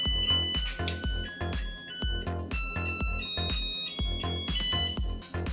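A rice cooker's start-up melody, a short tune of bright beeping tones, plays steadily, close and clear, over a repeating low thumping pulse.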